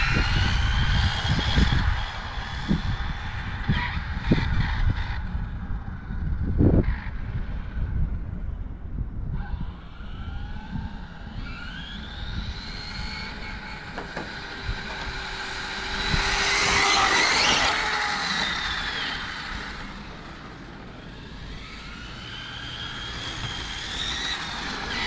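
An Arrma Infraction 6S RC car approaches on its first run, its electric motor whine rising in pitch and swelling to a loud peak before easing off, over a steady rumbling background.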